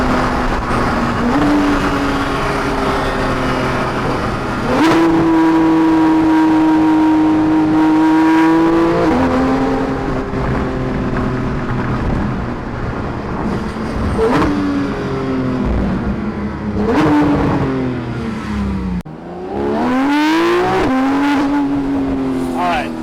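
Porsche GT3 RS revving and launching under launch control, a loud high-pitched engine wail sweeping up through repeated gear changes, with a strong close roar that rises again near the end. Voices are heard talking.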